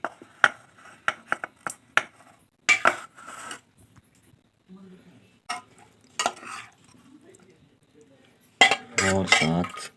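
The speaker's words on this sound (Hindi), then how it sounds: "अब इसमें डालते हैं आलू।" Potatoes go into a cooking pot with tomatoes, producing a series of close, sharp clinks and knocks of utensils against the metal pot, separated by short quiet gaps and ending in a louder clattering burst.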